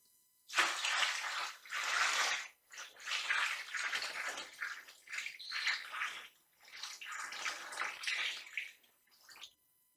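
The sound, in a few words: water filling a tray gently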